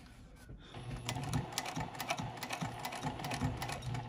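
Sewing machine stitching a sheet of vinyl for a pencil pouch or wallet, a close, rapid mechanical clatter in short bursts with brief pauses between runs.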